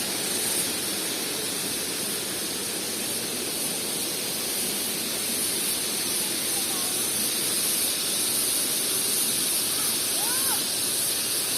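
Curug Cipanas waterfall in Nagrak, Parongpong, Bandung, a broad, constant rushing roar of falling water filling the scene at close range, with no break throughout.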